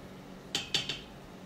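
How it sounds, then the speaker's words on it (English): A comb scrapes minced garlic from a metal garlic press in three quick, bright metallic scrapes close by, then quiet. "I'm gonna take the comb and scrape."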